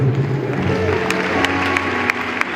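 Steady applause from a church congregation at a live gospel concert, sustained for a few seconds with a murmuring crowd and a few sharper claps rising out of the wash.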